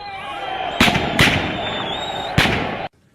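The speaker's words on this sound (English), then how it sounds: "the streets echoed to the sound of" Gunfire echoing through city-centre streets during running battles in Zimbabwe, three sharp separate cracks over a steady, ringing background drone.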